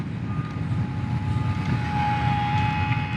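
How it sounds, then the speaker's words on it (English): A micro RC plane's tiny electric motor runs at full throttle, giving a steady, close, high-pitched whine with a constant drone beneath it. "I'm at full throttle here."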